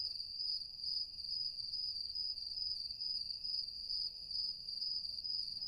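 A crickets-chirping sound effect fills a silent pause: a continuous, even, high trill that pulses steadily throughout and stands alone without talk.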